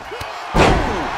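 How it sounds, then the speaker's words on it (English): A wrestler's crossbody slam in the WWE 2K25 video game lands as one loud, heavy impact that booms and rings out. A crowd-like wash sits behind it. "Wiped out with the crossbody."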